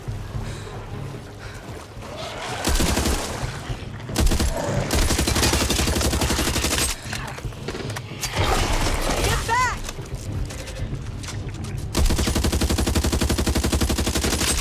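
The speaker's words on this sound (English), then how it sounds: "I shoot it in the head. Maybe a couple more times just for luck." Rapid automatic gunfire as a zombie is shot in Back 4 Blood on PC, long dense loud bursts broken by short pauses, with voices and other game noise running underneath.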